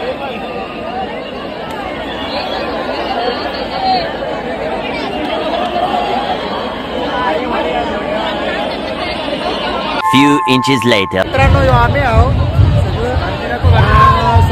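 Thick crowd babble fills a Chinchpokli Chintamani Ganesh arrival procession, loud and continuous, with a voice speaking near the end over sharp bursts of noise.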